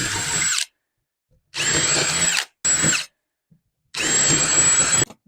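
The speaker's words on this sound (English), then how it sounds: "I just made a mark so I know where to drill." A power drill bores into cedar in four separate bursts of whining, grinding noise, with short silent pauses between them. It is close and loud.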